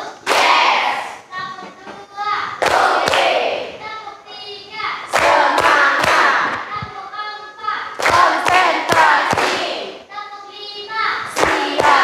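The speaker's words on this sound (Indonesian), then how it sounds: "Ketua kelas silakan pimpin, kita tepuk tangan dulu" Classroom students clap in unison in quick rhythmic bursts, loud and close, with short pauses between rounds and children's voices in the background.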